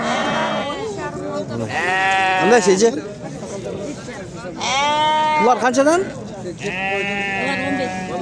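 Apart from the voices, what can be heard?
sheep and goats bleating at a livestock market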